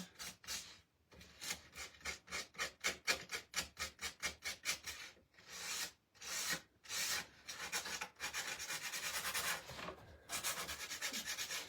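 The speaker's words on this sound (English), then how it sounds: "Just getting this nice and sanded." Wood being sanded by hand with sandpaper rather than a power sander, heard up close as a quick run of rhythmic rasping strokes, then slower longer rubs and a steady stretch of scraping, with no talking.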